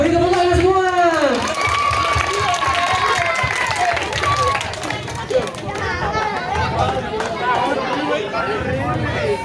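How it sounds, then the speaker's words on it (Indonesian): Applause from a crowd at an Indonesian Independence Day snake education show, a steady loud wash of clapping and cheering mixed with chatter, with a voice speaking over it at the start. "Beri tepuk tangan semua."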